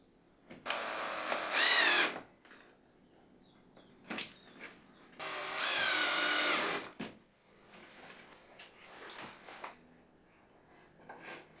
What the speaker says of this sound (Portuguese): usei 2 parafusos para fixar o bloco nas pernas